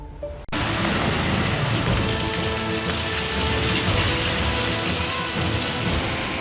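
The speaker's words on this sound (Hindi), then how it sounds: "उत्तराखंड के हल्द्वानी में कल देर शाम हुई भारी बारिश ने लोगों की मुसीबतों में इजाफा कर दिया" Heavy evening rain pouring down in Haldwani, Uttarakhand, a loud, dense, unbroken hiss that begins abruptly after a brief quiet moment and continues steadily with no talking.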